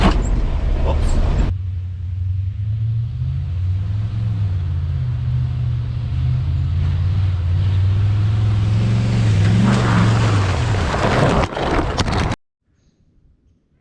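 An old beater truck drives along with a low, steady engine rumble heard from close by, pitch swelling slightly as it accelerates, before the sound cuts out abruptly near the end.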